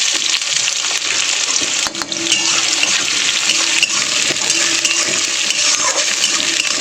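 Chopped onions and whole garam masala frying in hot oil in a kadai, a loud, dense, continuous sizzle with a brief knock of a utensil near the middle.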